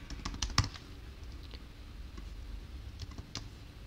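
A computer keyboard typing a username during account sign-up, with sparse light key clicks in small clusters over a soft background hum, no talk.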